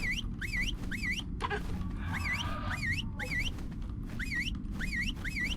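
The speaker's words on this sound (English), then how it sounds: "I'm just going to T-whistle as many as I can from here" Repeated short rising-falling whistles from the game Ragnarok come in quick rhythmic bursts over steady low ambient game noise, with a pause in the middle where a fainter tone sounds.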